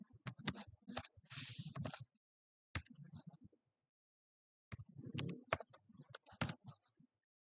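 Bursts of rapid computer keyboard typing as the ipconfig command is entered, clustered clicks in three short runs separated by pauses, close and fairly quiet.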